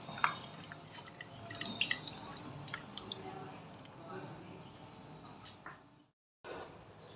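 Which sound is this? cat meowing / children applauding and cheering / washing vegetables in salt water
washing vegetables in salt water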